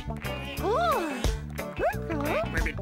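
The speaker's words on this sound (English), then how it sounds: "Ah, it's a frog." A cartoon frog croaks in a string of bouncy, warbling, voiced calls, close and clear, in a children's animated show.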